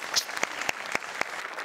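One person claps five or six times in a quick, slightly uneven rhythm at a Marathi stage comedy show, with crisp, close claps over a faint room murmur.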